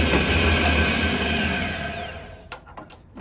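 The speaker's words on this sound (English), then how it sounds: "And I do a couple of little step drill in it." A step drill bit bores a hole in a part for a Factory Five MK4 roadster turn signal setup, a steady loud grinding whine for about two seconds that winds down, followed by a few sharp clicks and knocks.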